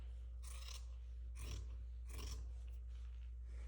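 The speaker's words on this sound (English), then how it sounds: "when there's excess batting, you just take your fabric scissors and trim it." Soft crunching snips of fabric scissors cutting through thick quilt batting, three or four quiet cuts over a steady low hum.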